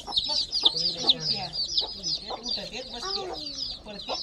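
A village hen on a small free-range poultry farm clucks in a busy run of calls, with overlapping bird chatter and a voice talking in the background throughout.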